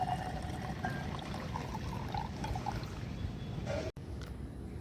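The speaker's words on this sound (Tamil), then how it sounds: "அப்புறம் சுகர் சிப் நம்ம வச்சிருக்கோம்ல அதை ஊற்றிக்கோங்க" Sugar syrup trickles from a container into a glass in a soft, continuous pour, faint and close, with a brief break near the end before the quiet liquid sound resumes.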